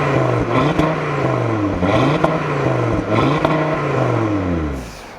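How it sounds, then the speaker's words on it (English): Audi RS3 with the RS sports exhaust revving: several rising and falling engine revs in a repeating rhythm, close and fairly loud, with small pops between pulls and no speech. "with the sports exhaust it does give you a few more crackles, a few more pops"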